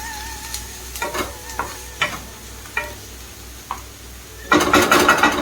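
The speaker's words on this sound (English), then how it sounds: "Now let's stir fry it for about 2 to 3 minutes till the onions becomes nice and translucent." Onions and green chilies stir-frying in a pan for Chinese-style Brussels sprouts, a soft sizzle punctuated by several distinct spatula knocks against the pan, then a louder burst of crackling sizzle near the end.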